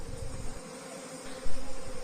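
Honey bees swarm and buzz around hillside hive boxes during a mountain honey harvest, a steady close insect drone that holds for the whole stretch with no voices over it.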